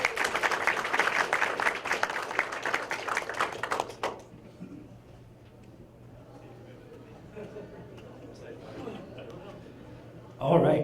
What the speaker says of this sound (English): let's give Joseph A big round of applause.